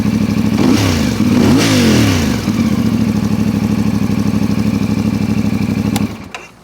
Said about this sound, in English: it's a pretty rowdy exhaust for a 450 twin. It sounds nice and throaty